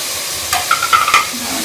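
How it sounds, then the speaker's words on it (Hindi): Tinda frying in masala in a pan hiss in a low, steady sizzle. A few quick stirring scrapes of a spoon against the pan rise above it in the middle. "आप इसके अंदर मैं टिंडे डाल के भी अच्छी तरह से भून लूँगी।"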